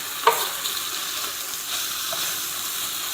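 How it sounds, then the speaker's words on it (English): Diced fish hits a hot pan seasoned with salt and pepper, giving one sharp sizzle at the start and then a steady close frying hiss with light stirring, no voices. "And then in with our diced fish."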